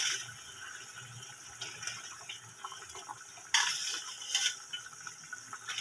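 Rohu fish pieces dropped into spiced water in a pan, a soft wet splash and sloshing over a steady hiss, with two louder plops near the end.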